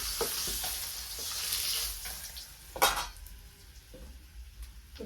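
Fish frying in a pan, a continuous soft sizzle and hiss with occasional spatters and a brief louder crackle, fairly close with no talk.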